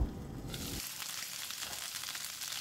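Taro root fries in a pan over a low-to-medium gas flame, giving a steady, soft sizzle close by with faint stirring, heard alone.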